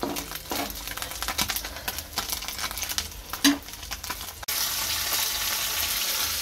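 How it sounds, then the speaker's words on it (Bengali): Small khoira fish fry in oil in a pan with a busy crackling sizzle, close and steady, and a brief stirring clatter midway before the sizzle settles into an even hiss. "খয়রা মাছগুলো ভাজা হচ্ছে"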